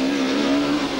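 Super touring race cars scream down the straight at high speed, a loud sustained engine whine with a steady pitch, close and alone.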